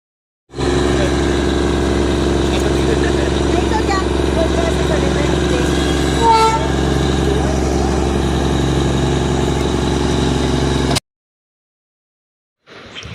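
A Darjeeling railway locomotive idles before departure with a loud, steady, close engine drone that holds for about ten seconds and then cuts off abruptly.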